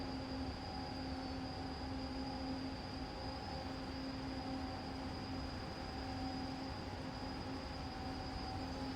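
A Dragon freight locomotive runs along the line in the SimRail simulator, a continuous loud rolling rumble with steady tonal hums and whine, heard from the cab with no talking.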